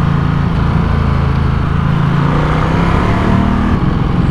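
A small-engined vehicle nearby, noted for heavy exhaust pollution, gives a steady loud droning engine hum with a slight rise in revs, continuous throughout with no voices.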